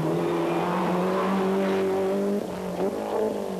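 A 1994 French Rally car with engine problems drones loudly and steadily, then stutters with popping and banging as the revs drop and pick up again.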